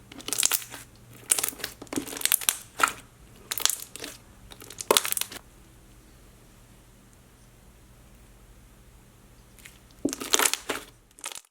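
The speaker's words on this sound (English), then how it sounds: "this was definitely like a white glue slime, like school glue slime, but it was still really, really thick and like a semi-foam and so crunchy" Thick, crunchy white school-glue foam slime is squished up close, giving bursts of crackling, popping crunches in clusters. A quiet pause follows before the crunching resumes near the end.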